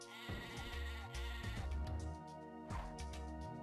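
Sheep in the Game Boy Advance game Tak and the Power of Juju bleat in loud, wavering cries over continuous game music, several bleats in quick succession.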